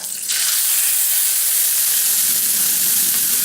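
Salisbury steak patties drop into a hot pan and set off a sudden, loud, steady sizzle that hisses on close by without letup.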